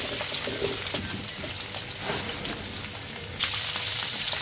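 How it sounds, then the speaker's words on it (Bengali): Potatoes fry in hot oil for egg biryani, a close, steady bubbling sizzle with brief louder swells and no voices. "এখন আলুগুলো ভাজবো ডিম পোলাওয়ের যে আমি আলু দেবো সেই আলুগুলো ভেজে নিব"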